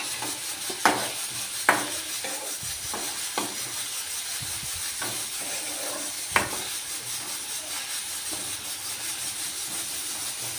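A tadka for washed moong dal sizzles in the pan with a constant hiss, punctuated by scattered clanks and scrapes of stirring.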